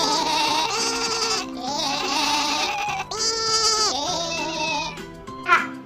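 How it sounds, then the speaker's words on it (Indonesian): A goat bleats repeatedly in long, wavering cries, loud and close, with one short higher call at the end. "Teman, ini namanya kambing."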